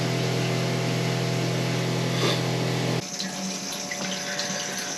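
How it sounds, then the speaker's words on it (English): Water drains steadily from a catamaran's hot water tank with disconnected hoses, a continuous loud rushing flow with a pump-like hum that cuts off at about three seconds, leaving a softer trickle. "I'm just letting the water drain out from the hot water tank"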